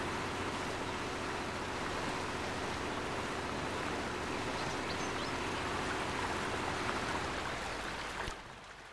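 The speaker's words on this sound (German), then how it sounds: "das ist ein tiefer, reißender Fluss hier" A deep rushing river in the off-road driving game Spintires: Mudrunner gives a steady, dense broadband roar of flowing water that continues unbroken and close for several seconds before easing slightly at the end.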